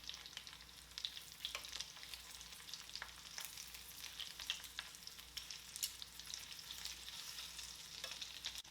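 Shrimp and other seafood frying in hot oil, a steady soft sizzle with fine crackling pops throughout, fairly quiet and close, with no voices.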